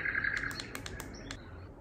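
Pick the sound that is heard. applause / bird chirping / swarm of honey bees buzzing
bird chirping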